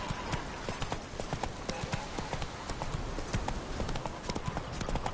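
The horse Roach gallops in The Witcher video game, and its hooves beat out a fast, steady clip-clop close by. Faint voices may sit beneath the hoofbeats.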